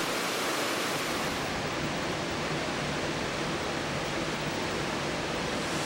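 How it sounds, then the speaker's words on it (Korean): The roaring two-tiered Cheungcheung waterfall in the Naeyeonsan valley near Pohang, swollen the day after rain, pours in a dense, unbroken rush of falling water, loud and close with no voices. "비온 다음날 층층폭포 아래에 서서 우렁찬 물소리와 세찬 물보라를 맞으며"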